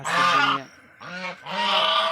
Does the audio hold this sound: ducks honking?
yes